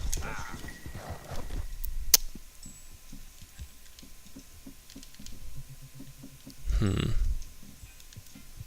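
Horse hooves galloping in Red Dead Redemption 2, a steady, rhythmic clip-clop in the middle distance heard under game ambience, with a louder burst of movement near the end and a person talking over parts of it.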